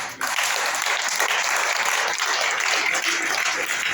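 A church congregation breaks into loud, dense applause that starts abruptly and carries on evenly for a few seconds without speech.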